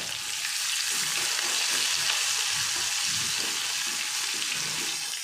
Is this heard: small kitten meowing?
no